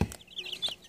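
Baby chicks peep in short, high chirps, a few quick calls close by in a quiet room.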